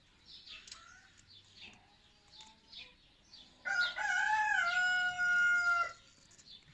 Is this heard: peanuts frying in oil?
no